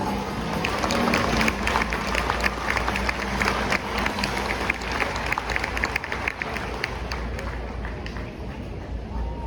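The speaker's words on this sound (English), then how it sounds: "To our Percheron Mares, 6th, let's give them a nice round of applause." Crowd applause for Percheron mares in a show ring at the Iowa State Fair: a steady wash of clapping with a low rumble of voices and arena noise beneath, sustained throughout.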